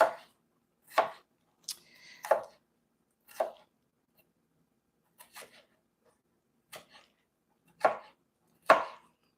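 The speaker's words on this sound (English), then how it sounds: "All right, so I'm chopping this." A knife chops vegetables on a board for raw vegan veggie bread, with about ten sharp, close strikes at an uneven pace and quiet gaps between them.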